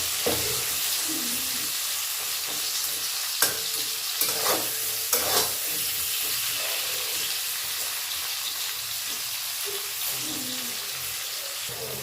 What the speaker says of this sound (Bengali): 6-7 টুকরো আদা আর 6-7 টুকরো রসুন। এটাও একটু গোল্ডেন করে ভেজে নেব।